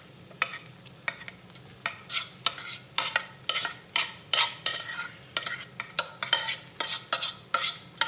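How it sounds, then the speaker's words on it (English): Rice is stirred into a sizzling tomato sauce in a pan, a spoon scraping in steady repeated strokes roughly every half second, close and clear, with a soft frying hiss underneath and no talking. "Add the rice to the sauce."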